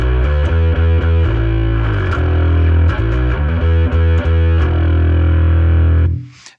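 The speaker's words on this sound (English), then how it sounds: "we've also got a drive here." Bass guitar through a drive effect on a BOSS GT-1000 Core, set to high gain, plays distorted, gritty notes in a loud rhythmic pattern with thick low end, then rings out and cuts to silence at the end.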